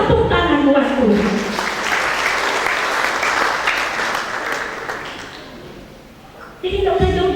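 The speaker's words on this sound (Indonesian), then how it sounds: "kita tepuk tangan buat Tuhan" A church congregation at a Christmas service in Biak, Papua applauds in a dense, sustained burst that fades gradually, with a voice and music-like tones at the start and end.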